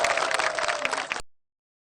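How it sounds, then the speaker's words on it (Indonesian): Studio audience applauding at the close of an Indonesian evening talk show, a dense burst of clapping that fills the room and then cuts off abruptly after about a second. "Mari kita berikan tepuk tangan untuk semua yang ada di sini."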